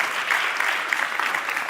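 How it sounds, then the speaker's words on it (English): An audience applauds together, a continuous, even roar of clapping that holds steady for the whole stretch without speech. "And please applaud, because you're a part of that."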